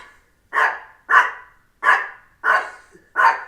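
A dog barks five times in a steady rhythm indoors, sharp and close, with short silent gaps between each bark.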